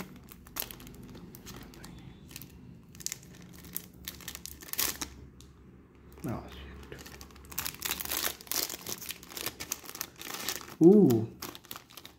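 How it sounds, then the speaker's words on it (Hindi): Crinkly plastic wrapper of a Japanese Pokemon card pack is torn and crumpled open, with scattered rustling bursts and a louder crunch near the end, under a person talking. "थोड़ी कार्ड ओपनिंग हो रही है"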